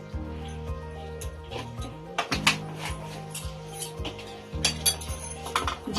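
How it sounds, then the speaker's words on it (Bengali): Cumin powder being stirred into a drying green pea paste in a pan for matarshutir kochuri, with a utensil scraping and clinking against the pan in irregular bursts over a steady low hum. "জিরের গুঁড়োটাও মটরশুঁটির পেস্টের সঙ্গে মিশিয়ে নেব।"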